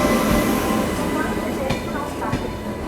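A Lalgarh Superfast Express train pulls into a platform at Mathura station, close and loud, with a steady rolling rumble and a few sharp clatters from the wheels.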